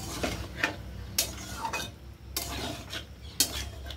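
Cauliflower being stir-fried with spices in a pan, utensil scraping and clinking against the metal in several sharp strokes over a soft, steady background, faint and close, with no talking.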